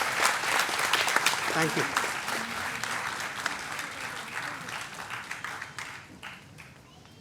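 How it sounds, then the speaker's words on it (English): Audience applause for prize-winning teachers and students at an institute foundation day award ceremony, dense clapping from a large crowd that slowly thins and fades, with a brief spoken thanks over it. "A final round of applause for all teachers and students who have got these prizes."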